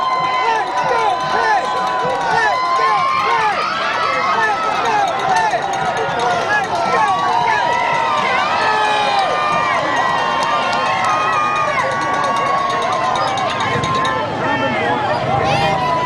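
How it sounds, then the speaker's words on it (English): A large street crowd at the Pittsburgh Penguins' Stanley Cup victory parade cheers and whoops loudly and continuously, with scattered shouts and whistles across the dense roar. "You can hear the crowd."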